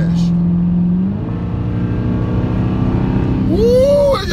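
A Dodge Hellcat accelerates hard on the road, its engine droning loud and close from inside the car, climbing steadily in pitch through the gears with a sharp rising whine at the end.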